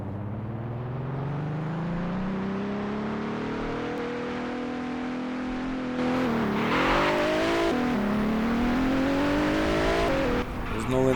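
A Nissan GT-R R35 accelerating hard, its engine note climbing steadily through the gears with a brief shift dip, loud and close as if heard from inside the car.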